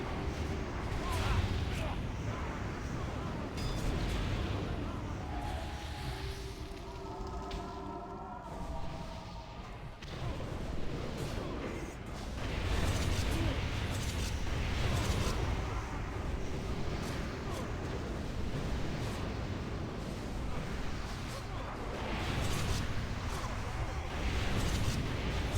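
Arcane explosion spells go off repeatedly during a World of Warcraft raid, a dense rumble of booming, thudding blasts with some brief tonal chimes, heard under ongoing talk.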